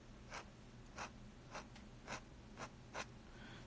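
A pen nib scratches on paper as the chin of a comic character is finished, making six short, quiet scratchy strokes at a fairly regular rhythm over a faint background hiss.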